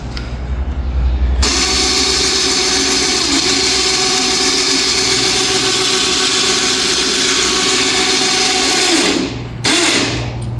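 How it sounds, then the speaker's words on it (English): A winch motor reels in its cable to lift a custom mini jeep, a loud steady mechanical whine and hum running nearly unbroken for about eight seconds before cutting off briefly, no talk. "we got the winch cable hooked up. So let's go ahead, hit the winch, and let's see, this goes up."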